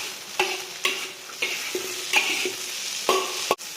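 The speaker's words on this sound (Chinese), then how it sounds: "因为它本身这个酸豆角它就有这个咸味， 我们只要把它炒熟就可以了。" Pickled sour long beans stir-fried in a wok for Liuzhou luosifen toppings: a steady close sizzle broken by several sharp scraping strokes of the spatula at irregular intervals, with no talking.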